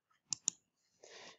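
Two quick, crisp computer keyboard key presses for a Ctrl+C copy shortcut, close and clear in a quiet room, followed by a brief soft rustle.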